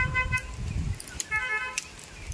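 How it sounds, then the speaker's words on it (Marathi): A car horn, likened to a Maruti Eeco's, gives a few short toots in bursts, moderately loud against low background rumble at a mango orchard. "आपला हॉर्न आहे सेम इक्कोचा."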